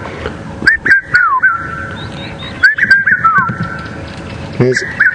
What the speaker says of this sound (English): We can hear a very vocal red-chested cuckoo in the background.